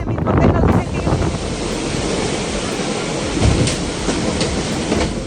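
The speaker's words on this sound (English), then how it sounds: "intense storm surges, violent gusts, and high waves are being reported" During a Category 4 hurricane, surf and gusting wind roar steadily, a dense wall of rushing noise with swelling surges close to the microphone and a muffled voice faintly underneath.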